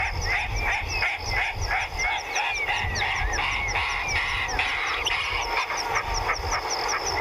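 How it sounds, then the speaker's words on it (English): Harsh, rasping lilac-breasted roller calls repeat in a busy outdoor chorus, croaky and insistent against steady background chatter of other birds. "That's one of the lilac-breasted rollers called."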